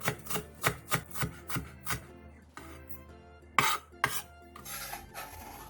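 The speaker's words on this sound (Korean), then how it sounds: "당근 조금을 채 썰고 대파 2분의 1개를 다져주세요." A kitchen knife chops carrot and green onion on a cutting board: a quick run of crisp, evenly spaced knocks, then a pause, a couple of sharper isolated strikes and a softer scraping tail, close and fairly quiet with no talk.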